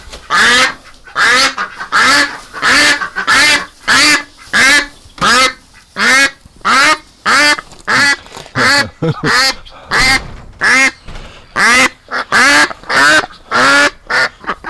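Domestic ducks quacking in a steady stream of loud, close, repeated calls, roughly one or two per second throughout, with no talking over them.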